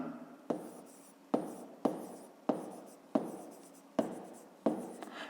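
Pen writing by hand on paper while working a fifth-grade maths exercise, close and clear: a series of short scratchy strokes, each starting with a sharp tap and trailing off, repeating roughly every second with no talk.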